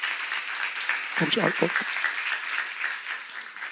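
Congregation applauding in a church during a sermon, a steady wash of clapping running throughout while someone speaks briefly over it.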